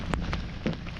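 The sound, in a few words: rain falling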